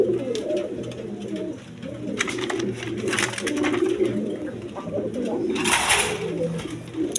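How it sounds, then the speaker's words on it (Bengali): Rasgolla pigeons, a pair offered for sale, give soft, repeated throaty coos and low murmurs close by. Bursts of rustling and flutter mix in, and faint voices sound in the background. "এখানে আরেক পেয়ার রাসগোল্লা কবুতর আছে"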